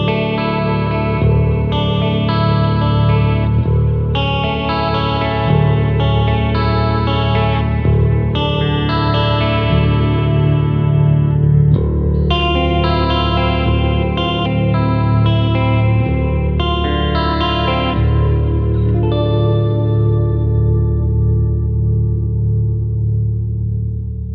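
Schecter Damien Platinum-9 nine-string electric guitar with EMG 909 pickups and heavy distortion, played in dense chugging riffs and sustained chords, loud and close, with a chorus-like sheen and a ringing fade at the end.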